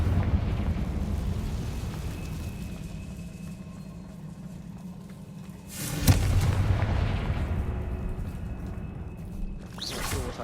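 A Confringo spell detonates in Hogwarts Legacy, a sudden loud blast around the middle followed by a rumbling tail, with a second sharper burst near the end over a low ambient game drone.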